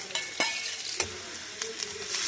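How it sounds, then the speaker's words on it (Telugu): Onions and seasoning seeds sizzle in oil for a traditional drumstick, green pea and tomato curry, a steady soft frying hiss broken by several sharp stirring clinks and scrapes, fairly quiet and close, with no voices. "ఉల్లిపాయలు వేసిన తర్వాత పోపు గింజలు వేస్తున్నానండి"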